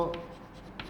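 Chalk or marker strokes from drawing graphs on a board during a physics lecture, a few short scratchy passes close by, with a voice speaking at the start.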